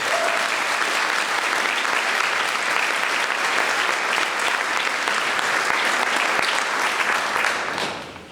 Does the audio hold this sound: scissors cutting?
no